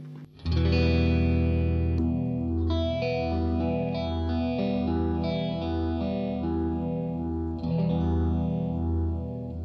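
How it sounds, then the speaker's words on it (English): Sustained electric guitar chords run through a six-stage phaser pedal, producing a deep, throaty sweeping whoosh that cycles steadily up and down, loud and close. "That's on six stage phasing."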